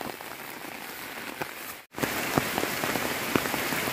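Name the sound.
heavy rain during thunderstorm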